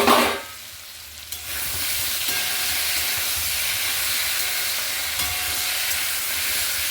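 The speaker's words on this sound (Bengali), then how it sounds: "সবজিগুলো মোটামুটি ভালো ভাজা হয়ে এসছে।" Mixed vegetables fry in a pan after the lid comes off, for a vegetarian East Bengal-style curry: a short clatter, then a steady close sizzle and hiss with faint scrapes of stirring.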